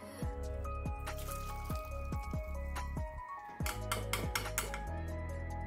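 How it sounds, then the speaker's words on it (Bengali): Boiled vegetables drain through a strainer with dripping and squishing water, close and fairly quiet, with light clinks of pots and utensils toward the end. "যে অবশিষ্ট পানিটা রয়েছে সেটা আমি খুব ভালো করে ছেঁকে নেব, যাতে সবজির মধ্যে কোনো রকম পানি না থাকে"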